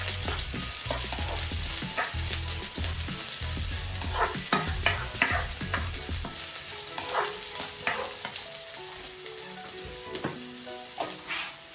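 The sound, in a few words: white and red onions frying in a pan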